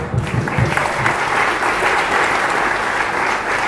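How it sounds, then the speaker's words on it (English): An audience at a Theology on Tap evening in Sydney applauds a speaker being introduced, a brisk, even burst of clapping from a room of people lasting a few seconds. "Ah, and yes, we clap for him."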